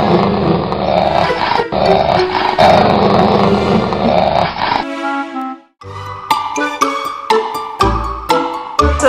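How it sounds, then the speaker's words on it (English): A guard dog in a small Main Street shop growls loudly and steadily for several seconds, then goes quiet before a series of sharper, lower clattering sounds follows. "plus a dog, Jasmine, who is our resident guard dog"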